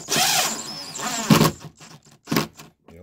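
A power drill drives screws into an exterior electrical outlet cover, giving a few short whirring bursts with pauses between them, close and moderately loud.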